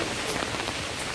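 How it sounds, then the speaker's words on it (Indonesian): Heavy rain falls on an outing in Cherbourg, France, a continuous broadband hiss of downpour on nearby surfaces with no voices over it. "Hujan lebat guys, hujan lebat."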